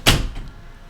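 A single door thud in the crime game L.A. Noire, one sharp close knock or slam that fades quickly into quiet room tone.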